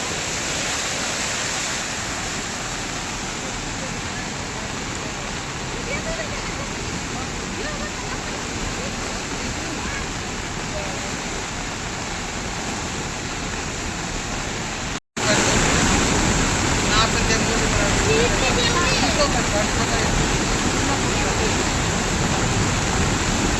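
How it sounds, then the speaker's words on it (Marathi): A monsoon-swollen waterfall in the Sahyadri hills roars as a dense, continuous broadband rush, loud and close, jumping slightly louder after a brief cut midway. "बघू शकता तुम्ही खूप सुंदर असा पाणी पडतोय"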